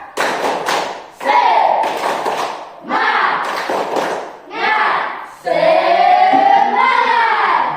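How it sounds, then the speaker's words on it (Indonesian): A primary school class does a rhythmic spirit clap in bursts of loud, close hand claps, with voices chanting along between and over the clapping. "coba kita tepuk semangat satu kali"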